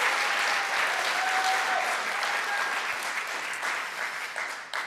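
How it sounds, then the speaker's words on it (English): An audience at a New York State Poetry Out Loud event applauds student performers, a dense, loud, sustained clapping that carries steadily and tapers slightly toward the end. "Can we please give another round of applause for all of the talented students performing here today?"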